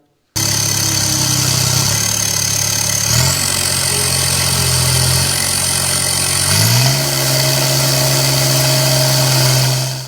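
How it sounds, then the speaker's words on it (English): A loud, close John Deere 1025R/2025R compact tractor engine with an aftermarket turbo kit running steadily, with a high turbo whistle from the exhaust above the rumble that climbs in steps as the revs rise. "you also hear the turbo whistle coming out of the exhaust pipe too"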